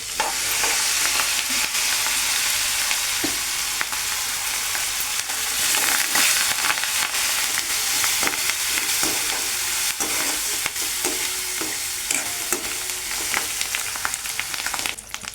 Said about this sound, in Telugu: కొంచెం కరివేపాకు కూడా వేసేస్తున్నాను ఇందులోనే.